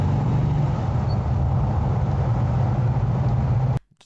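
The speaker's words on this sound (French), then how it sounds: "plus la sonorité du V8" A V8 car with a manual gearbox rumbles with a steady, deep engine drone throughout, close and loud, then cuts off abruptly at the end.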